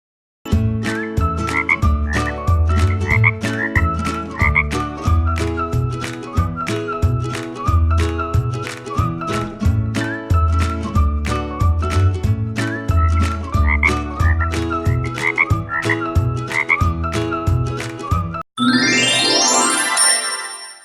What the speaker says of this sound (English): Frog croaks. Frog croaks.